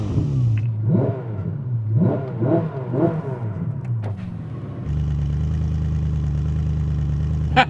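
A Ferrari SF90 XX or Koenigsegg engine revs hard three times in quick sharp blips, then settles into a loud, steady high idle, close by with no talking.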